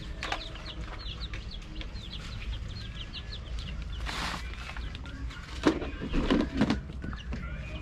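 Chickens being raised for eggs cluck and peep in a series of quick calls, moderately close, over a steady background hiss, with a few louder squawks near the end.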